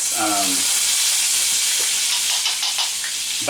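Bacon and minced garlic fry in a pan with a loud, steady sizzle and hiss. A brief tonal beep sounds near the start and faint stirring clicks come later.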